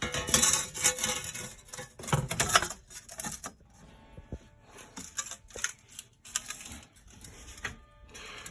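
Sheet metal for a handmade floor pan is notched and cut with simple hand tools, giving rapid, scratchy, chattering bursts separated by short pauses, close up.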